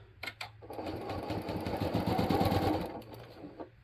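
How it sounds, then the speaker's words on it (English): A sewing machine stitches quilt pieces at a quarter-inch seam, its steady motor whirring in a continuous run for about two and a half seconds, with brief handling noises before and after. "I'm going to sew with 1/4 inch."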